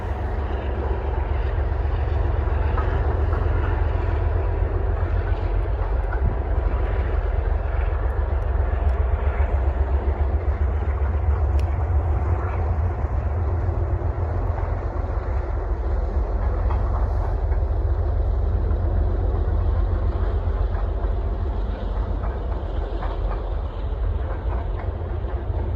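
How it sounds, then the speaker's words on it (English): A CSX southbound freight, train I-150, passes through Northwood, Ohio, a continuous loud low rumble with faint clickety-clack of wheels on rail and no horn. "Our next CSX train of the day would be southbound train I-150"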